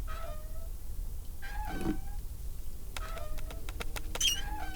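A cartoon cat meows several times in the point-and-click game Deponia Doomsday, short close mews spread across the moment, with brief high chirps near the end.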